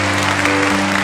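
An audience at a talk applauds in a steady, dense wash of clapping, fairly loud, with a faint tonal hum running underneath.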